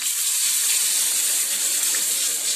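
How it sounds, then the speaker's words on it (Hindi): Meat stock (yakhni) poured into a pot of browned meat, a steady close liquid gush and splash running continuously, with no talk. "अब मैं यखनी ऐड करूंगी"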